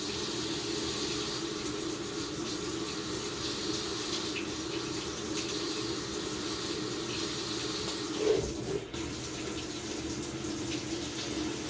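A top-loading washing machine fills with water, a steady soft rush of running water with a brief clunk or knock partway through.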